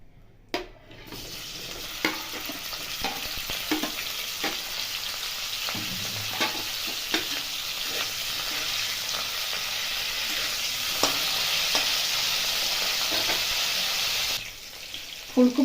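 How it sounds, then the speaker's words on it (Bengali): Steamed cauliflower fries in white oil in a wok, a continuous sizzle that builds and broadens over time, punctuated by repeated clacks and scrapes of stirring, then drops off sharply near the end; no talking. "এবার ফুলকপিটা একটু ভেজে নেব।"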